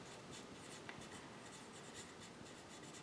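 A pencil shading in a region on paper: a continuous, even scratchy rubbing at close range, quiet and steady throughout with no talking.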